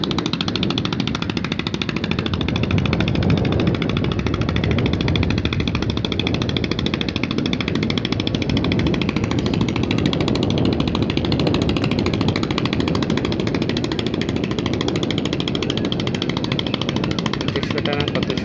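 A river trawler boat carrying bricks, its engine chugging steadily and loudly throughout, with a voice talking over the constant mechanical drone.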